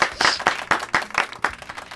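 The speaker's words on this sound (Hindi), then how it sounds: "जोरदार तालियां रविंद्र जैन के लिए" An audience applauds Ravindra Jain, a brief, dense burst of clapping that swells and pulses for two seconds, loud and close, with no voices over it.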